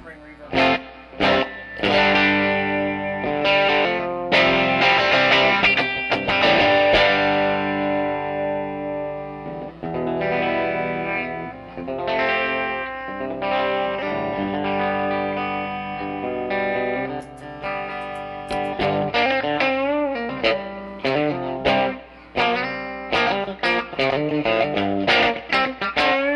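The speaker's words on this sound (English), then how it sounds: "I have a little spring reverb." Electric guitar played through an amp with a wet, springy reverb and some distortion, chords and picked notes ringing out in a steady, fairly loud passage.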